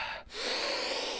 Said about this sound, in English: therapist told me to do the breathing exercises.